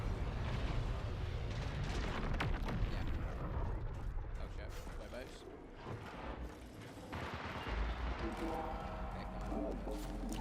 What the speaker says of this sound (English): I can begin to hear shots within Station